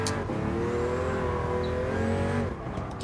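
A car engine in Gran Turismo Sport on PS4 revs hard and steadily, a loud sustained drone with rising pitch before easing off near the end, no talk over it.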